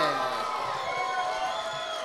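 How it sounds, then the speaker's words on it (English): Fight-night crowd at an ALTA9 MMA event cheering and whooping for a fighter introduced in the cage, a loud continuous roar with rising shouts, under ringing tonal sound from the arena. "Big round of applause for Tommy Ironbark Hare"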